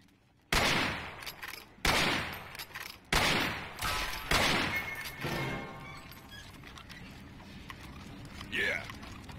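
Four loud, evenly spaced gunshots ring out in a video game shootout, each with a trailing echo, followed by a quieter stretch of faint background noise.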